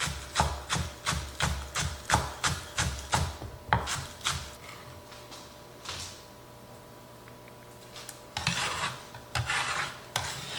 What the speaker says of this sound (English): It's best to use a bench scraper to scrape up your goodies instead of using the edge of your knife.